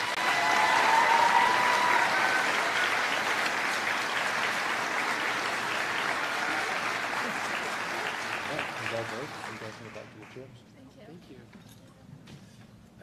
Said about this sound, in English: Please give this group a round of applause.